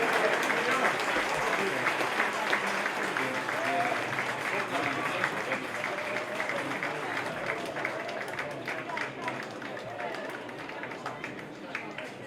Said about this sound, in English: So give Ashley the big round of applause